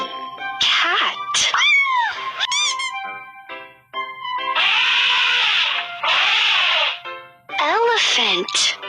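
Cat sounds in a children's animal-sounds lesson, a run of several loud, close meows with rising and falling pitch, some drawn out and some short, separated by brief pauses.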